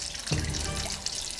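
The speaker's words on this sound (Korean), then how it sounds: "물이 졸졸 흐르는 바위가 집안에 떡하니 놓여 있다고요?" Water trickles and splashes from a rock set inside a house at the foot of a mountain, a close, steady running flow with a brief drop near the start.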